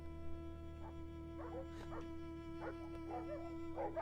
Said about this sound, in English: Soon dogs were there out in the field, barking at the man.